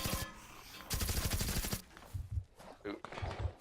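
Gunfire aimed at zombies in the PS4 video game Dead Alliance: rapid bursts of automatic shots in two dense runs, with a few scattered single shots after them. Someone talks over parts of it.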